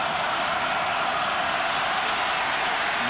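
A packed college football stadium crowd keeps up a thick, unbroken roar that sounds distant yet loud, with a commentator's voice faintly under it.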